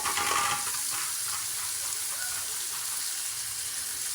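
Bitter gourd (ampalaya) hitting hot oil in a pan for sautéed ampalaya with egg gives a steady, close hiss of frying that starts with a brief louder crackle and then settles into an even sizzle, with no voices.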